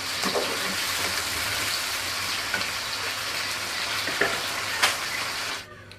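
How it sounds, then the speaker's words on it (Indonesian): Jengkol beans frying in hot oil give a steady, loud, close sizzle with scattered pops and crackles for about six seconds, fading out at the end. "kita goreng jengkol dulu"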